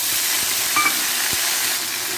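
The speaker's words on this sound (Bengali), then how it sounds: "এবার আদা মৌরির মিশ্রণটা এতে দিয়ে নেব" A ginger and fennel paste fries in hot oil in a wok, a steady close sizzling hiss throughout with a faint scrape or two.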